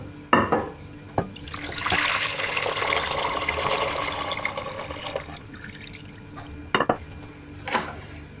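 Brine drains from a jar of fermented cucumbers pickled with mustard, a steady pouring, splashing rush for a few seconds into a sink, followed by a few clinks and drips.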